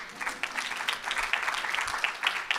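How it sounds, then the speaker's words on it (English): Audience applause at a nonprofit storytelling conference: a steady patter of clapping hands, moderately distant and even, with no talk over it. "Yeah, round of applause. Come on."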